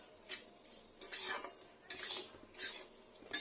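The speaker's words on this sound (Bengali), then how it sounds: "দেখুন একটু ফ্রাই করবো সুন্দরভাবে।" Semolina with a pinch of salt is stirred in a pan, giving a series of close, soft scraping and clinking strokes of a utensil against metal, with quiet gaps between them and no voices.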